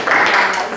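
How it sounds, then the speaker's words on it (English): Dense applause from a seated audience at a local community event fills a short stretch, a loud wash of many hands clapping together with a hint of voices mixed in. "Let's give a round of applause."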